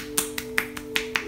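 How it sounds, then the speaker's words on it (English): A person claps in a sharp, steady rhythm, about seven crisp, close hand smacks spaced evenly over a second and a half against a quiet low hum. "I'm clapping these nubs."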